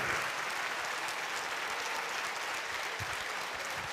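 Loud, sustained applause from a large audience at a graduation ceremony for apprentices at a vocational training centre in Nice, a dense steady roar of clapping hands filling the hall throughout.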